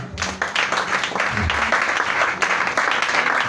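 A church congregation applauds in a continuous burst of many hands clapping together, dense and fairly loud throughout, with a few voices mixed into the crowd noise.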